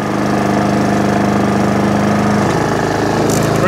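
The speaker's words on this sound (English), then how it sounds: "So now, full revs is fine." Honda HRX476 lawn mower petrol engine running steadily at full revs after a carburetor clean, a loud, close, continuous mechanical drone with a strong steady hum and slight change near the end.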